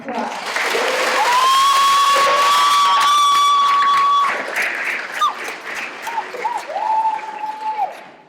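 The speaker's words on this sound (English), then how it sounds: "Please give them a round of applause." An audience at a school Leadership Day assembly applauds students in a loud burst of clapping and cheering. A sustained whistle-like tone rides over it, and the clapping thins out after about four seconds into scattered claps and a second, shorter tone.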